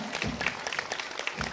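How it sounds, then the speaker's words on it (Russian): A hall audience applauds in a brief, moderately faint burst of quick overlapping claps. "Эти аплодисменты звучат вам."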